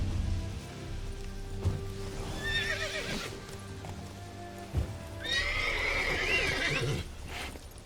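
Roach, the horse in Witcher 3, gives two whinnies in the foreground, the first shorter and the second long and loud, over clip-clopping hooves and light game ambience with a couple of thuds.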